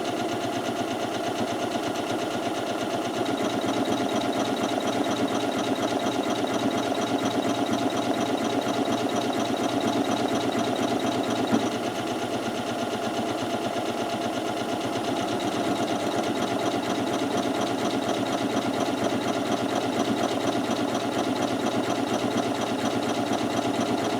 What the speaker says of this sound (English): then you can go ahead and stitch out that buttonhole